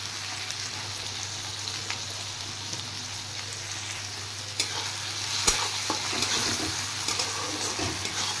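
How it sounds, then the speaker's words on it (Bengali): Chopped onion and tomato fry in a pan for a Bengali fish dish, with a constant close sizzle and a few soft stirring scrapes toward the end. "এবার টমেটোটা সহ আরেকটু ভেজে নেব"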